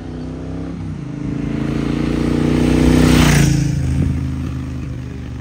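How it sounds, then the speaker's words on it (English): A Triumph Bonneville Bobber 1200 motorcycle engine rumbles steadily up close, swells in a long rising pass that peaks midway, then eases back to a loud idle-like throb, with no voices. "Today I finally get my hands on the bike a lot of you have been asking about, the Triumph Bonneville Bobber 1200."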